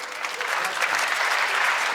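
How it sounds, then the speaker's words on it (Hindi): Loud, dense applause from a large live audience at a Hindi comedy show, steady and sustained throughout with no talk over it. "अगर मेरा बदला ठीक हो गया हो तो एक बार जोरदार तालियां बजा दीजिएगा।"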